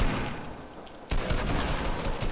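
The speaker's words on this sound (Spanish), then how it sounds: "Está disparando desde el otro lado de la calle con una pam" Pump shotgun fire in Fortnite from across the street: steady loud game noise, then one sharp shot at about the midpoint, with continuing gunfire and clatter after it.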